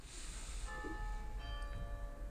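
Small bells chime during a battle in a Star Wars video game, a sustained ringing layer of several tones entering partway through over steady game sound, moderately quiet.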